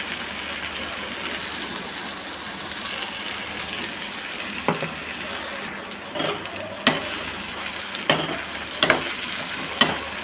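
Ground chana dal masala being stirred into cluster beans in a pan, with soft sizzling under scattered scraping clicks of a spoon toward the end.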